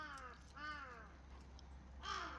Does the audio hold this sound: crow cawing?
yes